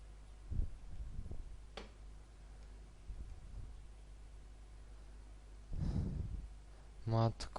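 A steady low hum runs through the horror game SCP-087, with soft breathing swells and a few faint ticks rising now and then, and a louder burst near the end.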